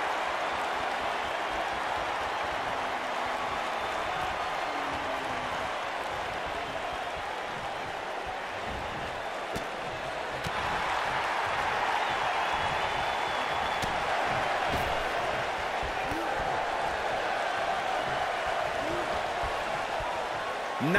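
A large arena crowd in the WWE 2K19 Royal Rumble wrestling video game roars and cheers in a steady, dense wall of noise that swells slightly partway through and holds loud to the end.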